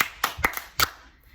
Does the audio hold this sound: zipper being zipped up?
no